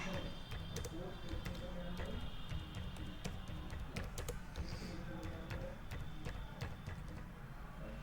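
Keys tapping on a computer keyboard while entering an accounting standard name, a steady run of quick light clicks over a low background hum.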